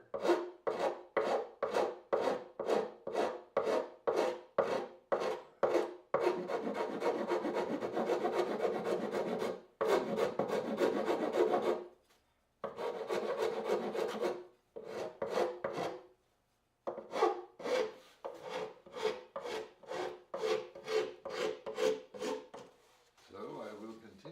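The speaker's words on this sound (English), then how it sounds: "Eventually I get to sandpaper." Guitar body sanded by hand with sandpaper, close rhythmic rasping strokes in quick bursts, then longer continuous rubbing passes with brief pauses between them.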